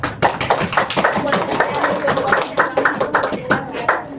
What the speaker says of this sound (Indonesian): Beri tepuk tangan dulu kepada